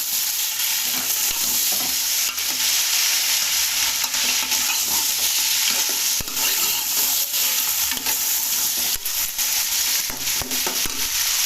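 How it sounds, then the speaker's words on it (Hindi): Chicken and mixed vegetables with whole spices sizzle and crackle in hot oil for a vegetable and chicken pulao, with a spoon scraping and stirring through a steady, loud fry and no talking. "तकरीबन 2 मिनट तक इसकी भुनाई करूँगा।"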